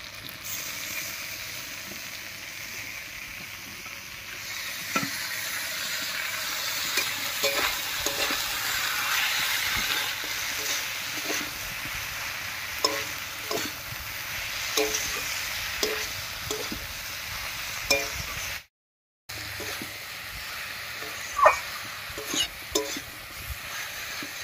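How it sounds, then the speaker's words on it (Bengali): Steamed cabbage stir-fried with a spice paste in a pan sizzles steadily up close, with scattered clicks and scrapes of a spoon stirring throughout and one brief break in the sound. "এবারে বাঁধাকপিটা সবকিছুর সঙ্গে রান্না হতে থাক"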